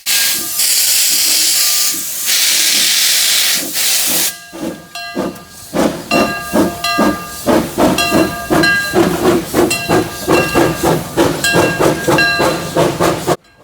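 Steam locomotive number 2 at a train museum's Steam and Power Show departs: a loud, roaring hiss of released steam, then rhythmic, chuffing exhaust beats that start slowly and quicken as it pulls away.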